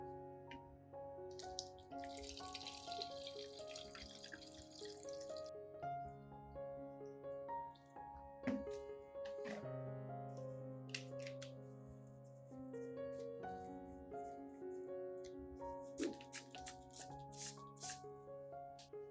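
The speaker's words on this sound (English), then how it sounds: "I will pour the solution into a spray bottle and mist it gently over the plant." Liquid orchid fertilizer solution is poured into a spray bottle in a brief splashy trickle lasting a few seconds, heard over steady background music.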